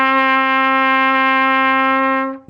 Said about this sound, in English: D is a note that's played using the first and third valve.